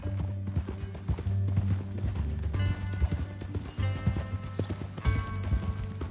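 Steady clip-clop of horse hooves at a trot in Red Dead Redemption 2, close and rhythmic, with an occasional whinny over a low rumbling background.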